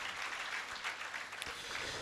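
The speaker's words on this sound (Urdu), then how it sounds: "بھرپور تالیوں کی گونج میں ان کی خدمت کے لیے شکر گزار ہوتے ہیں" Congregation applauding in church during a Lenten Sunday Mass to thank volunteers, a steady broadband wash of clapping, moderately distant and filling the room for the whole stretch.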